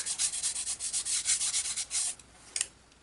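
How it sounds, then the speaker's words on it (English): Brisk rhythmic rubbing of a small sanding block on the edges of a model glider part, a steady series of short scratchy strokes up close, ending with a lighter tap and a couple of softer strokes. "I am going to sand the edges of this, so just got a little sanding block."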